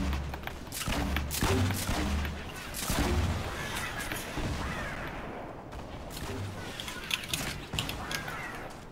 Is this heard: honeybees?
no